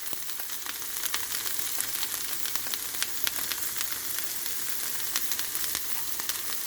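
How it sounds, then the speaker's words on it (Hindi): Okra pieces frying on a tawa over medium heat in a home kitchen, a steady dense sizzle with scattered crackles and pops throughout, close and even, with no talking. "सो भिंडी को मैं मीडियम हीट पे फ्राई करूंगी।"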